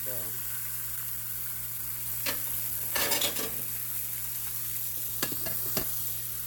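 Thin slices of beef frying in a pan for a quick sub sandwich, a steady sizzle running throughout with a few louder bursts of stirring and scraping in the middle and near the end.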